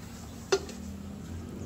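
A spatula flips a hotcake in a home frying pan, giving one brief metallic clink against the pan over a low steady background hum, with no voices.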